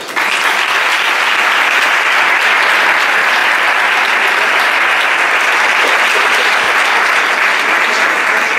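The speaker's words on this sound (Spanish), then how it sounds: "les pido por favor un fuerte aplauso" Sustained, loud applause from an audience at a business awards gala in Marbella, dense and steady throughout with no speech over it.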